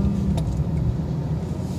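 Steady low road and engine rumble from inside a car while driving, continuous and fairly loud, with a brief faint jingle near the start and no talking.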